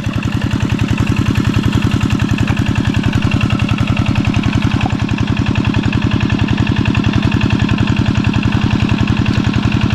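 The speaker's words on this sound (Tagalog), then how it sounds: "Pagpasensya nyo po, maingay yung motor." A small boat motor runs steadily and loudly throughout while fishing, with a rapid, even chugging rhythm and no pauses.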